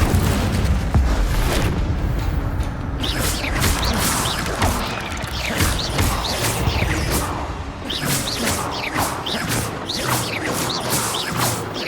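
A fire spell is cast in Hogwarts Legacy, producing a loud, dense roar of bursting flames and crackling impacts that continues without pause for several seconds.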